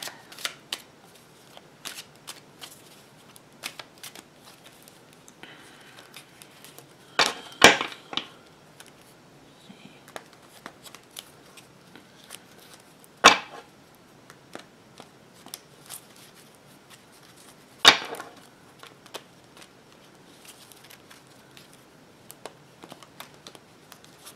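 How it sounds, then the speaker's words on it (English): Tarot cards are shuffled quietly up close, soft papery riffles and light taps throughout, with a few louder riffle bursts standing out. "Alright, I'm going to start the shuffle"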